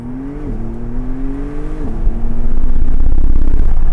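A Porsche four-wheel-drive car's engine revs up through a couple of gear changes, the pitch climbing, dropping at each shift and climbing again before settling into a loud sustained roar close by.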